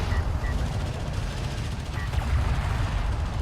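Railgun shots landing in the strategy game Homeworld: Deserts of Kharak: a steady rumble of distant impacts and rapid gunfire-like crackle, with a commentator's voice faintly present beneath.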